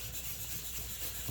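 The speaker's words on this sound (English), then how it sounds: "I'm gonna work this thing down. This is a piece of 600 grit sandpaper." A sheet of 600 grit sandpaper with gun oil rubbing down a new metal mold, a close, continuous gritty scrubbing that keeps up without a break.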